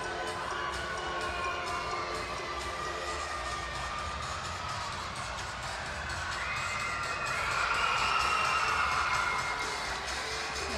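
A crowd at a college women's gymnastics meet, Iowa at Illinois, cheers through a floor routine: a steady, dense roar of voices that swells around the eight-second mark, with faint tonal music underneath.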